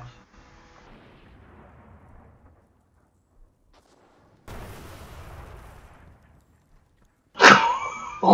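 Gunfire in a first-person shooter video game during a one-on-one match, firing through stairs: a burst of noisy blasts mid-clip, then a loud, sharp, bright shot near the end, after quiet stretches.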